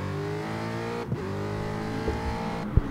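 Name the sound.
race cars at Monza in a video game racing league race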